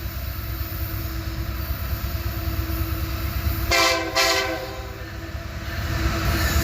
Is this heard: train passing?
yes